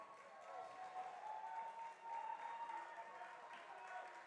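Montville fans at a high school baseball game against Chatham at TD Park give a light, distant cheer and scattered clapping, a thin crowd murmur that persists throughout, with speech mixed in.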